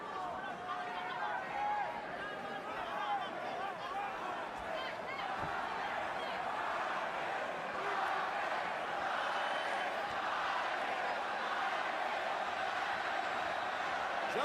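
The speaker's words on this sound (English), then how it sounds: "Judging by the chants, the crowd's about 50-50" A boxing arena crowd at a Pacquiao versus Marquez fight roars in a steady, dense wash of chanting and cheering voices, distant and continuous, with a faint commentary voice occasionally above it.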